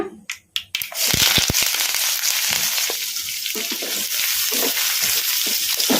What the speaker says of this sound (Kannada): ಉಳ್ಳಾಗಡ್ಡಿನ ಹೈ ಫ್ಲೇಮಲ್ಲಿ ಒಂದು ನಿಮಿಷ ಫ್ರೈ ಮಾಡ್ಕೊಂಬಿಡೋಣ